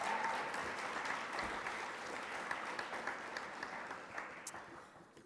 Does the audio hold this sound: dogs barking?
no